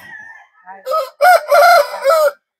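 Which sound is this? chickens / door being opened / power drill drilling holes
chickens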